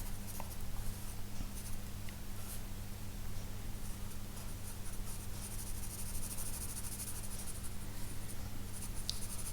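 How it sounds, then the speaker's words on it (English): A 2B pencil sketches steadily on paper, a soft continuous scratching close by over a low background hum. "I'm just using a 2B pencil here."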